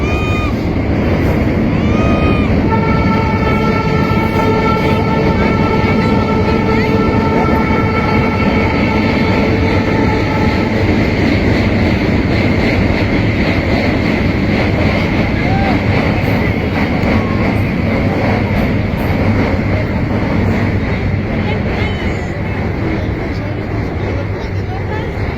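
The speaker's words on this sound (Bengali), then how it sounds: "এখন ব্রিজের উপর দিয়ে ট্রেন যাচ্ছে।" A train rolls over a railway bridge, a loud steady rumble that fills the whole stretch, with talk over it near the start.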